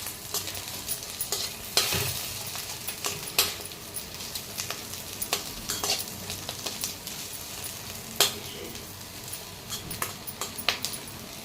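Cumin seeds and garlic crackle and sizzle in a hot pan, with steady frying hiss broken by sharp scraping stirs and occasional clinks of a spoon against the metal.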